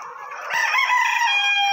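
A hen on a farm where the birds are laying eggs calls out in one drawn, rising cackle, close and fairly loud with nothing else behind it.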